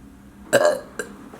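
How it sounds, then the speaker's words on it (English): A loud burp erupts, followed moments later by a second, shorter burp. "I found my talent and it's just burping really loud."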